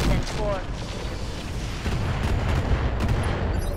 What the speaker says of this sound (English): switching to standard ammo and firing